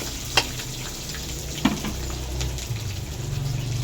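Ginger sizzles steadily in hot oil in a pan for pakbet, with a continuous frying hiss and a couple of sharp clicks of a utensil against the pan. No one speaks.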